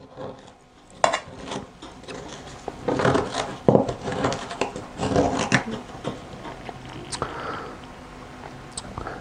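Butter knife prying fresh coconut meat away from the hard shell while making homemade coconut milk: irregular close scraping, cracking and knocking, with bursts of gritty friction and small clicks throughout.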